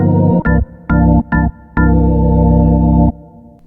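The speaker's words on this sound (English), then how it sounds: "I am going to go ahead and choose the VK Organ 1" VK Organ 1 patch played on a Roland Fantom synthesizer: a few short staccato organ chords, then one held chord ringing for over a second before release, bright and close with no talking.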